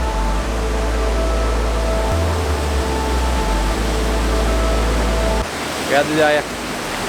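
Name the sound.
waterfall in a gorge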